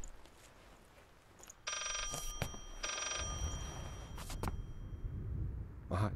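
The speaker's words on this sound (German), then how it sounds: "Hauptsache, das Telefon klingelt noch." A telephone in the Layers of Fear game on PS4 rings in two short, bright trilling bursts over a low rumbling background, with sharp knocks scattered around them.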